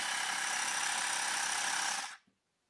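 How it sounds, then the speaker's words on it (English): A Stuart S50 model steam engine runs on compressed air from a portable compressor at about 3 psi, giving a loud, steady, fast hissing chuff that cuts off abruptly near the end, leaving silence. "See, it runs happily on the air compressor."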